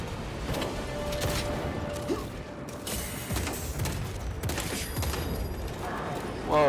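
Rapid gunfire and bursts of combat noise from the video game Space Marine 2 fill the clip, dense and continuous, with mechanical clanks and booms mixed in.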